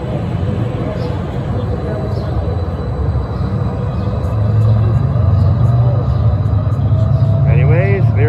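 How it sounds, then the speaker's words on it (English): A Calgary C-Train light rail train departs the station with a steady loud rumble and rolling wheel noise that swells midway, ending in a brief squeal of wheels on rails. "There goes our train."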